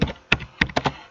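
Several quick keystrokes on a computer keyboard sound as crisp, close taps in an uneven rhythm, about five clicks within a second.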